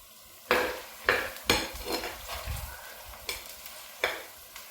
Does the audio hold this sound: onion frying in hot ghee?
yes